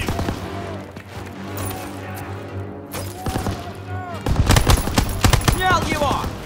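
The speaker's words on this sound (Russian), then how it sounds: "Пулемет на втором этаже." Machine gun fire from the second floor of a building in Call of Duty: WW2, sustained bursts with sharp crashes, joined by louder, denser gunfire near the end while voices shout over the combat.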